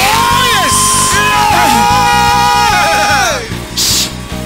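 A church congregation at a Sunday service screams, shouts and whoops loudly over pulsing music, voices overlapping in a dense, energetic roar that eases slightly near the end.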